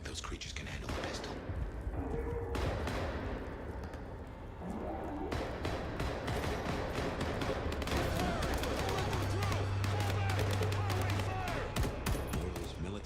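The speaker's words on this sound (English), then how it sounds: "Gunfire" Rapid gunfire in a video game, a dense run of sharp cracks and thuds that builds from sparse shots into a sustained barrage, with game sounds and effects layered throughout.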